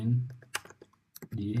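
Computer keyboard typing during a hands-on network penetration testing lab, heard as a short burst of scattered key clicks between spells of a man's speech.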